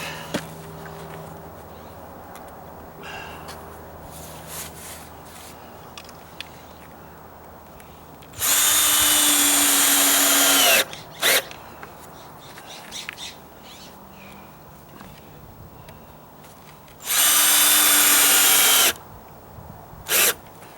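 A power drill drives 1.25-inch coarse-thread sheetrock screws into a deck under dry rot repair, with two loud sustained bursts of a couple of seconds each separated by quieter stretches of ambient background.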